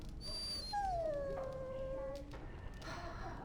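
A dog in the Dragon Age Origins video game lets out a single close, drawn-out whimper that slides downward in pitch, then fades into quiet.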